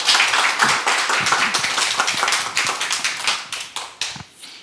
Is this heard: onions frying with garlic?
no